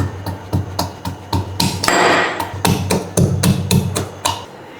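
Garlic and ginger being pounded to crush them for a hot, spicy chicken soup: a close, steady run of about a dozen sharp thuds, with no voices.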